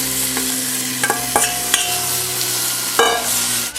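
Tomatoes go into a pan of sizzling whole, slightly firm peppers for enchilado de mariscos, with steady frying hiss broken by several clanking stirs of a utensil against the pan.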